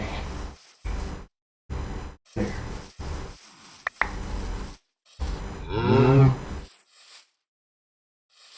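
A cow in the Minecraft video game lets out a drawn-out, rising moo near the end, after a run of short blocky game sounds and clicks separated by silent gaps.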